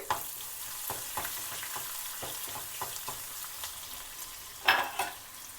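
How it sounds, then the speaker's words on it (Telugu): Onions fry in a pan until brown for a chukkakura dal, with a steady bright sizzle and occasional stirring scrapes. A louder clatter comes near the end, and no one speaks. "ఉల్లిపాయ బ్రౌన్గా వచ్చేంత వరకు ఫ్రై చేసుకోవాలి"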